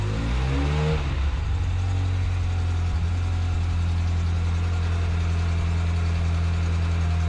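A cold Ferrari F355 engine idles nearby with a steady, deep, loud drone, showing a slight settling in pitch at the start before holding an even, unbroken rumble throughout.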